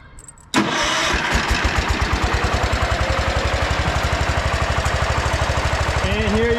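A Simplicity/Allis Chalmers garden tractor engine cranks and catches abruptly after a short quiet moment, then settles into a loud, steady, rhythmic chugging idle close by.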